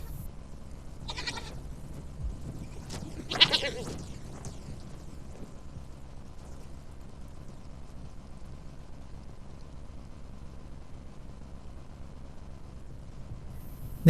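Nomads' goats and sheep in the desert let out a couple of distant bleats near the start, then a long stretch of quiet open-air background follows.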